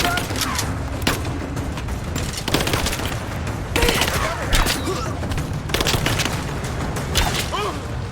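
Gunfire crackles in bursts of rapid shots and louder booms from the video game Rise of the Tomb Raider, close and intense throughout, with voices speaking between volleys.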